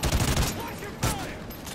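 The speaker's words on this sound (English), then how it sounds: "Who shot that one?" Burst gunfire in Call of Duty: Ghosts, with a rapid fusillade opening the clip and another sharp volley near the middle, loud and close amid battle noise.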